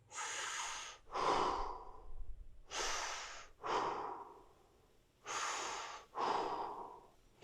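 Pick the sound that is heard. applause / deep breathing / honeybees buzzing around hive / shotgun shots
deep breathing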